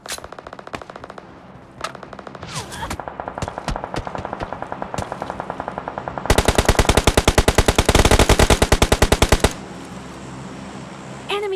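Video game firefight on the Karakin map: scattered single gunshots early, then a loud, dense burst of rapid automatic fire lasting several seconds, alone without talk.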